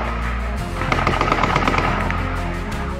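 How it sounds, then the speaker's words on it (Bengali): A rapid burst of automatic gunfire in a tense hill area, a fast rattling string of shots over a low rumbling background, fairly loud and with no talking. "নিরাপত্তা বাহিনীর অবস্থান বাড়ছে, কিন্তু গুলির শব্দ এখনো শোনা যাচ্ছে।"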